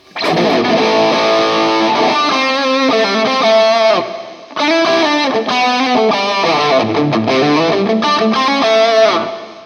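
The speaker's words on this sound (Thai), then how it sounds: "เห็นไหมมีรีเวิร์บละ" Electric guitar played through an M-VAVE Cube Baby multi-effects unit with reverb switched on, loud distorted chords and single-note lines ringing continuously, with a brief dip midway before playing resumes.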